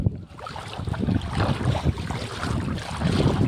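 Wind gusts steadily across choppy open water with sea-like waves, a dense rushing roar with buffeting microphone noise throughout; no voices.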